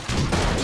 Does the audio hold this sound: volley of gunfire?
yes